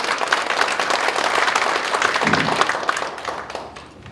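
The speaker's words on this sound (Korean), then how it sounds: "여러분들 뜨거운 박수 한 번 더 부탁드리겠습니다" Dense, continuous applause fills a small conference room at a National Assembly policy forum, staying loud and steady before tapering off near the end.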